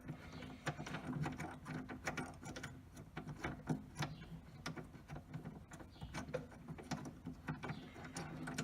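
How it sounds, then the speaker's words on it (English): A screw is backed out of the rear door of a Range Rover L322, giving faint, close, repetitive ratcheting clicks that continue steadily with no talking. "So I'll take this screw out of here."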